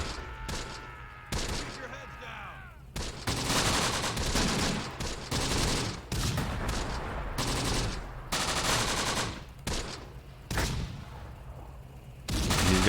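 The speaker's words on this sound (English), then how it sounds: "Alright, I'm calling in artillery on that spot right now" Artillery and gunfire pound a battlefield in the World War II game Close Combat: The Bloody First, with loud, repeated bursts and blasts separated by brief lulls.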